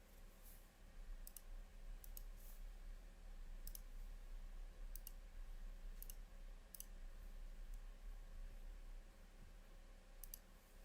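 A computer mouse clicks sharply and sporadically, about a dozen single and double clicks scattered over a steady low electrical hum, with no talk.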